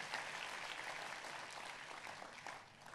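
A church congregation applauds in praise of Jesus during a worship service, a steady, dense wash of clapping throughout that sounds somewhat distant and moderately quiet.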